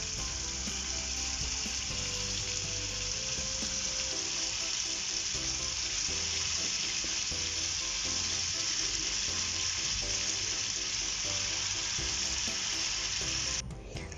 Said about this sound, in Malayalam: എണ്ണ ഒഴിച്ച് കൊടുത്തിട്ട് നമുക്കിത് ഫ്രൈ ചെയ്തെടുക്കാം